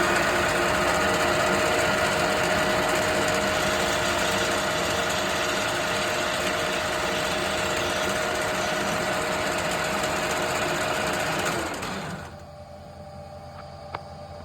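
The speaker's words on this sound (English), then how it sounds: "So I'll just cut this plate to go behind the bracket there." A metal plate for a sports car bracket is cut by a loud, steady machine whir and buzz that runs continuously, then stops abruptly near the end, leaving a quiet room with one small knock.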